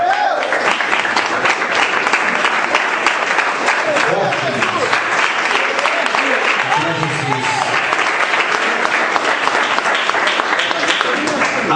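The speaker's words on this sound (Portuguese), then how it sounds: "Pode assentar e louvar a Deus com as palmas." A Pentecostal church congregation claps hands in praise during a service, a dense, steady wall of applause filling the room for about twelve seconds with no pauses.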